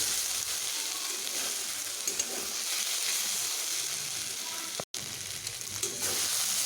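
Radish greens fry in a pan with a steady, close sizzle that holds evenly throughout, broken only by a brief dropout near the end.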